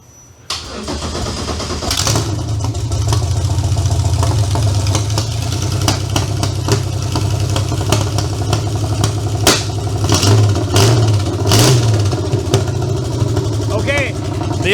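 A golf cart engine cranks and catches after a sudden start, then runs loud and steady with a few rev swells, the rough mechanical drone continuing close up throughout.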